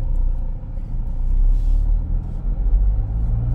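Mahindra Scorpio N SUV with a manual gearbox pulling away and driving, heard from inside as a steady low engine and road rumble with slight swells, no talk over it.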